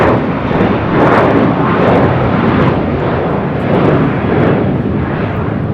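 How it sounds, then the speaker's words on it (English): JetBlue Airways Airbus A321 taking off from LAX toward JFK, a loud, steady broadband jet roar that swells and holds throughout, heard alone without talk. "Taking off to JFK, JetBlue Airways 2024 on an A321"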